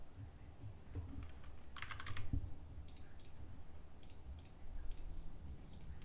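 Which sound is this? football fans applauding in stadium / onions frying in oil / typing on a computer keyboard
typing on a computer keyboard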